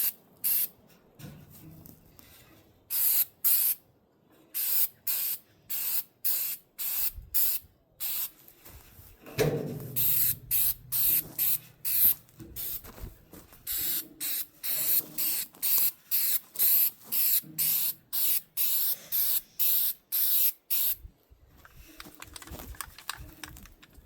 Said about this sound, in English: I'm going to paint kind of at a downward angle because on these it's got that lip there